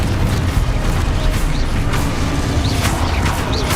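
Confringo fire-spell blasts in the Hogwarts Legacy video game, heard as continuous loud booming explosions and rumbling impacts with whooshing bursts, no talk during the clip.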